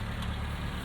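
A 1991 Nissan Figaro's small 990cc turbocharged four-cylinder idles steadily up close, a smooth low hum with a faint even pulse.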